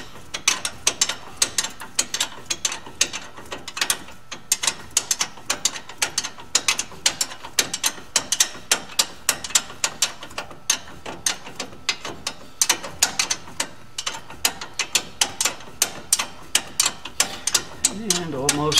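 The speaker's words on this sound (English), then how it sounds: "Have to use a boxed end wrench." A boxed end wrench works a bolt on a front wheel hub during a wheel bearing job, giving rapid repeated metallic clicks and ratcheting ticks close by, steady throughout with a brief scrape at the end.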